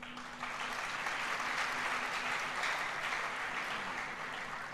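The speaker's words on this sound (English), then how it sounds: "May we applaud them." An audience at a peace council gathering on elections applauds, the clapping swelling quickly into a sustained, even roar of hands that holds for the whole stretch.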